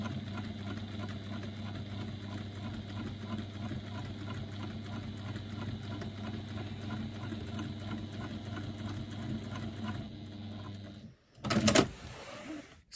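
A sewing machine stitches through a stack of faux leather, fabric and interfacing, humming steadily and close for about eleven seconds with a light needle clatter, then stopping, followed by a brief louder handling noise.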